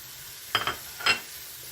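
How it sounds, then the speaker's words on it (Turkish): Two quick, quiet scraping stirs of minced meat sizzling in a pan, each lasting a fraction of a second. "Şöyle biraz daha kavuracağım çok az."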